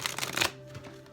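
A new oracle card deck with smooth matte paper being shuffled by hand, a brief close riffle of cards that trails off into quiet rustling.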